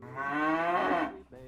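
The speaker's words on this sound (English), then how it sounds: "It's a sentient cow." A single drawn-out moo from a cow in a video game, a smooth rising and falling call lasting about a second, followed by a short grunt.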